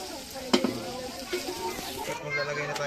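Frying chicken sizzles steadily in a pan, with stirring clatter and a few sharp utensil knocks, while a person talks nearby.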